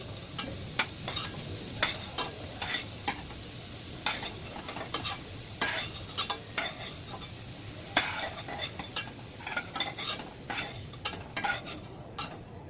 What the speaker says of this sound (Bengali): আলু ভাজাটা তুলে নিই, আমি লাল লাল করে ভাজি।